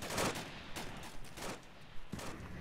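Several short, sharp bursts of gunfire in a firefight, rough and fairly distant, spaced irregularly over a few seconds.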